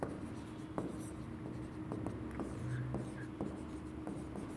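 Marker or chalk writing on a board during a Class 10 maths lesson, with soft scratchy strokes and taps scattered through the clip under a quiet room tone.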